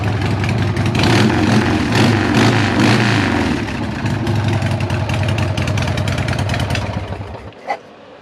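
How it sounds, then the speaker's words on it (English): Harley-Davidson Sportster motorcycle engine idling loud and close with a lumpy, uneven rumble before it shuts off, followed by a brief click in the quiet. "Let y'all hear the Sportster real quick before I shut it off."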